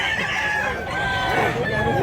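A rooster crows at a chicken seller's stall where a big bullstag cock is on offer, a loud, continuous call set against a busy, noisy market background.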